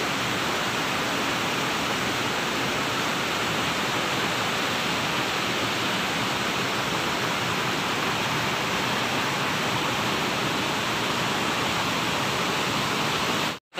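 A steady, dense roar of rushing water from a waterfall, broad and unchanging throughout, with no other sounds.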